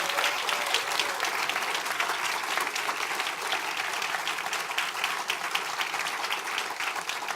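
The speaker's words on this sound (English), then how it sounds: "So let's give them all a round of applause." Sustained audience applause fills a church, dense and even clapping from a large crowd that holds steady throughout without letting up.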